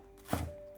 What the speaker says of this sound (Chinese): 准备1把小葱，切成葱花。